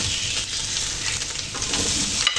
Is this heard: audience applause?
no